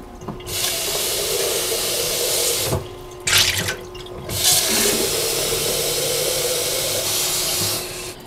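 Water runs steadily from a tap as drinking water is prepared in the morning, a continuous close rushing stream that breaks off briefly partway through and stops near the end.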